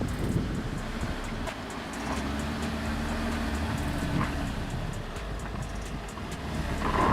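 A Mercedes ML SUV grinds over an off-road obstacle, its engine a low steady rumble with some wind buffeting and faint clunks from the suspension, heard from outside without speech.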